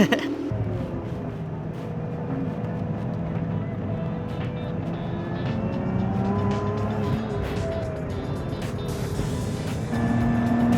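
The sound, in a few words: Emira car exhaust on the Sepang circuit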